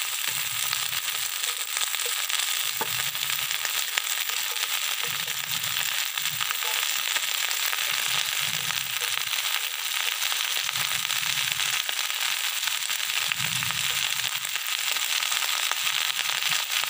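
Water spinach (kangkung) is stir-fried in a pan with a steady, bright sizzle throughout, broken by regular soft low scrapes and thumps as the greens are tossed and turned until they wilt.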